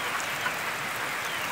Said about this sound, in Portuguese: porque está caindo uma chuva neste exato momento